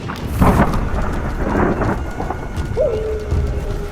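Thunderstorm with rain and strong wind, low rumbling thunder rolling continuously under steady rain hiss, loud and close, with a brief rising whistle of wind near the end.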